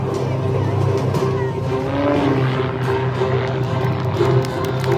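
An aerobatic propeller airplane flies a spiral tower manoeuvre at a 2024 air show, its engine a loud, continuous droning roar that holds steady and close for the whole stretch.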